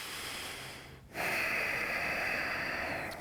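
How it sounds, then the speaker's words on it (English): Deep breath drawn in during a yoga pose, a steady airy inhale rising abruptly after a short pause and holding loud and close to the end, alone with no talk. "Take a breath here"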